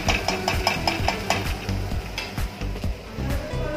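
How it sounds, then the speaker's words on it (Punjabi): Onions frying in a pan sizzle steadily while a utensil scrapes and stirs in quick, uneven strokes close by. "ਅਤੇ ਇਹ ਪਿਆਜ਼ ਭੁੰਨ ਰਹੇ ਹਾਂ ਆਪਾਂ ਹੁਣ"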